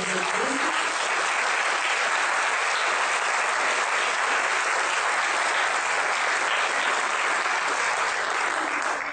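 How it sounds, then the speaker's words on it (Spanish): An audience at a lecture on food digestion gives a strong round of applause. The clapping is steady and even, and it fills the whole stretch without letting up. "le damos un fuerte aplauso"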